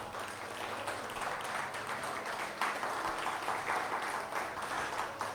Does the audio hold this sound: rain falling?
no